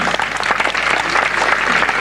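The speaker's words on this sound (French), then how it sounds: "Vous pouvez applaudir votre candidat, messieurs" An audience at a quiz event in Le Rouret claps for a contestant, a steady, dense burst of applause filling the room throughout.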